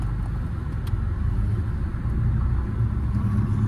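Engine of a manual car idling and rumbling as a nine-year-old presses the gas pedal, a low steady drone heard from inside the cabin with slight surges.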